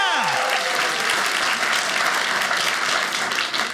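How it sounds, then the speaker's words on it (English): A comedy club audience breaks into loud, sustained applause filling the room, with cheering mixed in and a brief voice at the start, tapering slightly at the end. "Clap your hands."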